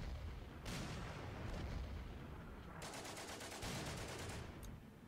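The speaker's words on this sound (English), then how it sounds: "Oh crap, artillery, right?" Artillery barrage in a World War strategy video game during a Soviet tutorial mission: continuous rumbling booms and crackling bursts, with a dense cluster of sharp repeated blasts near the end, steady and fairly loud throughout.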